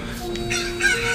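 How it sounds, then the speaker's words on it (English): Cuckoo chicken clucking from the Zelda Ocarina of Time video game, a steady game soundtrack with faint bird calls and no talk. "if you attack cuckoos, what is it, three times? Then they will summon more cuckoos"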